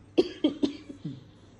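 A girl coughs several times in a quick run of about five short, hoarse bursts, close and fairly loud, with no talking.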